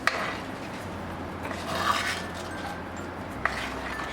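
A spoon scrapes and stirs salted fish curry in a pan while cooking Kerala-style Meen Pattichathu, giving soft rubbing strokes with a couple of sharp clicks against the pan, close and fairly quiet.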